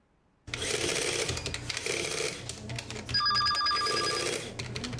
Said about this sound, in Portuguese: muito cálculo e o telefone com chamadas de cobrança tocando